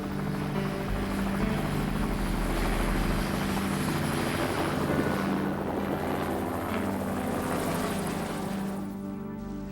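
A rescue helicopter answering a bear-mauling mayday in the bush roars loud and steady overhead, its rotor thrum and turbine whine filling the scene with no voices.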